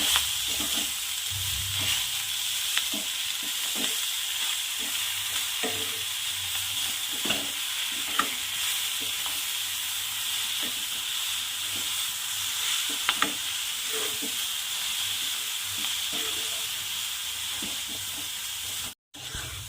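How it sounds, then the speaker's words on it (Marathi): Fenugreek leaves stirred into dal sizzle steadily in a pan, a continuous hiss with scattered spoon scrapes and soft clicks throughout, with no talking. "आता आपण यामध्ये मेथी ॲड करू छान मिक्स करून घ्यायचं"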